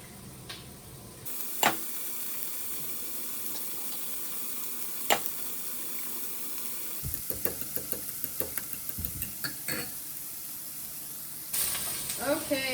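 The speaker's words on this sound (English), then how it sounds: "Okay, these onions are starting to brown and cook down." Onions and sweet potatoes sizzle in a frying pan, a soft steady frying hiss broken by clinks and scraping stirs, with a burst of louder sizzle near the end.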